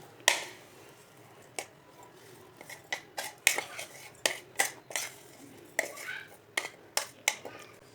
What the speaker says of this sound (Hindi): आधा पहले कूट लेंगे, आधा बाद में कूट लेंगे।